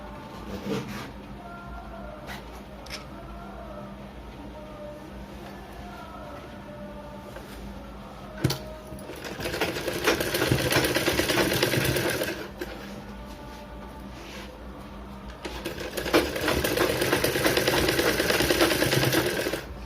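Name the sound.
sewing machine stitching a blouse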